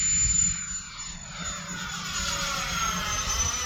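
An FMS A-10 Thunderbolt II RC model jet flying inverted, its electric ducted-fan whine steady and moderately loud, shifting in pitch as it passes overhead at a distance.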